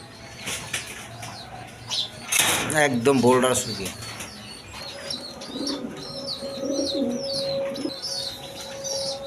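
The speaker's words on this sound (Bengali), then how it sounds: "এখানে সিঙ্গেল দুইটা নর কবুতর আছে দেখেন" Jacobin and Maltese pigeons, including two single red males, coo and flap their wings in a burst of loud fluttering, followed by softer cooing and chirps under a voice.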